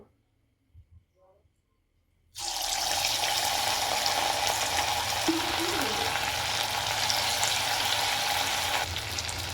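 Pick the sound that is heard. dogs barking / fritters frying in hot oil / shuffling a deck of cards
fritters frying in hot oil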